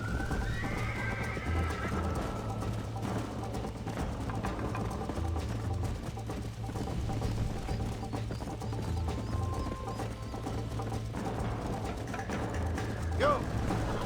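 In the Red Dead Redemption video game, horses whinny and neigh over a steady clip-clop of galloping hooves, with ambient background sound and a rider's voice urging them on at points.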